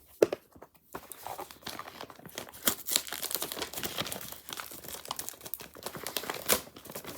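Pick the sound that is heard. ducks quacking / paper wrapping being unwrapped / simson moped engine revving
paper wrapping being unwrapped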